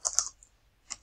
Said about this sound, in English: I'll type the hex code in there for this one because I have it.